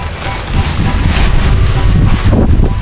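Strong cool-season wind blows while a kite is flown outdoors, a loud, continuous buffeting roar of gusts hitting the microphone with no talk.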